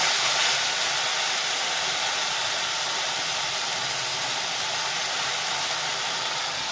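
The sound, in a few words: spice paste being fried in a pan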